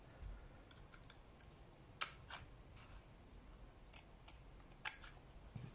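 Scissors snip card for a small jewelry gift box in a few sharp, close cuts spaced irregularly in a quiet room, with faint rustling between them.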